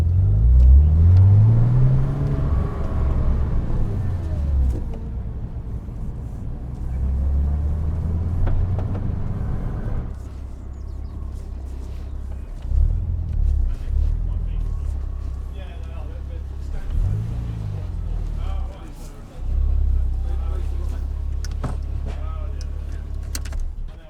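A Porsche Cayman 987 accelerating hard on the Goodwood track during an autosolo event, a loud rising engine pull near the start then steady in-car drone with further throttle surges, people talking over it.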